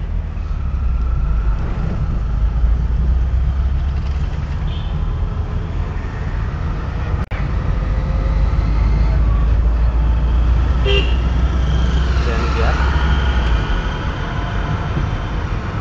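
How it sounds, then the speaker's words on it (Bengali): A driving school car in Sylhet, freshly topped with engine oil, rumbles loudly and steadily on the road, a deep continuous engine drone with a brief horn toot partway through. "গাড়ির আওয়াজ কিন্তু সেই মজা লাগে।"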